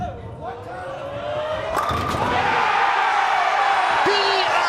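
A bowling crowd at the Weber Cup, USA against Europe, swells into loud cheering and whooping after a strike throw, the roar building and holding steady, with an announcer talking over it.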